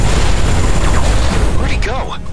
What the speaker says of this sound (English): Full salvo and a few missiles.